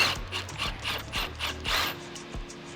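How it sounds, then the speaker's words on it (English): A hand ratchet clicks in repeated short bursts, loosening the muffler hanger bolts on a Porsche Cayenne 955, close and clear with a rhythmic pawl rattle and brief pauses between strokes. "You want to support your muffler and remove the bolts"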